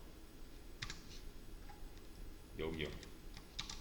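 Faint computer keyboard typing: a few scattered key clicks at low volume, with a short stretch of speech partway through.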